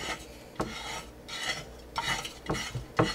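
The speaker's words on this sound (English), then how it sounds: "That's pretty straightforward, comes up pretty easy, to scrape it around." A razor blade scrapes sticky cannabis resin (Rick Simpson oil) off a surface in short repeated strokes, each a close rasping scrape separated by brief pauses.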